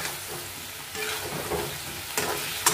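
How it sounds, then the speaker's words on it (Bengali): Cumin, ginger and chili paste with salt and turmeric sizzle in a pan as a spoon stirs, a steady soft frying hiss with occasional scraping clicks, close and alone. "আমার মতন হলুদ এবং লবণ দিলাম, এটা বেশ করে এবার কষাবো।"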